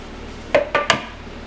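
Three quick metallic clinks of a spoon knocking against other utensils and dishes while it is pulled out for mixing a banana fritter batter, close and sharp, with no talking.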